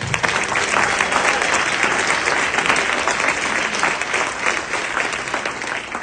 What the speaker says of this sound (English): Let's again just give this dedicated board a round of applause.